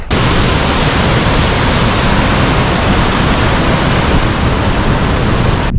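A waterfall in the Berwyn Mountains in Wales, swollen with extra water, pouring as a loud, steady, unbroken roar throughout.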